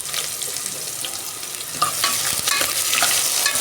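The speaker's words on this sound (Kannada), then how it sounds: "ಈರುಳ್ಳಿ ಸ್ವಲ್ಪ ಫ್ರೈ ಆಗಲಿ." Sliced onions fry in oil with spices in a pressure cooker, a steady close hiss and sizzle with faint stirring scrapes throughout, no voices.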